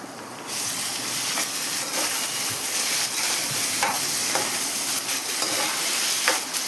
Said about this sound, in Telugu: ఇది కూడా మంచిగా కొంచెంసేపు ఆయిల్లో ఫ్రై అవనిద్దాం